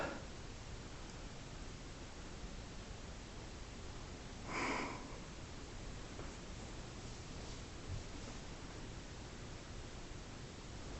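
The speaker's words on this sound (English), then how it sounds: "Put the fans on medium" Ceiling fans in a Lutheran church run at medium speed, making a steady broadband whoosh of moving air with a brief soft rustle partway through.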